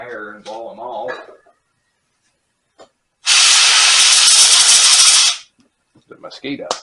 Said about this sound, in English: I'm going to take some air and blow them off.